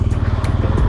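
A motorcycle engine idles close by at a Russian border crossing, a steady low throbbing rumble heard alone for about a second.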